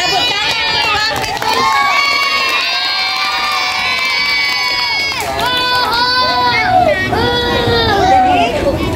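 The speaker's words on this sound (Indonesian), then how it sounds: "Tepuk tangan untuk Wafid." A group of schoolchildren at a Saturday storytelling session in Sidrap cheers and shouts loudly for a classmate named Wafid, a continuous bright babble of young voices with rising whoops throughout.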